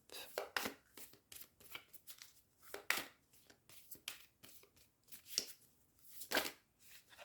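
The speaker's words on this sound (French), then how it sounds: "On va essayer d'aller tirer 3 cartes." Tarot cards are drawn from a deck, giving soft, close papery flicks and slides in scattered bursts, very quiet with no voices.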